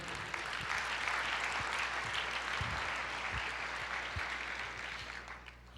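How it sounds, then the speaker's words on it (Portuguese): A church congregation claps in sustained, dense applause during a sermon, steady and full throughout, tapering slightly at the end. "Glória a Deus, aplauda o Senhor."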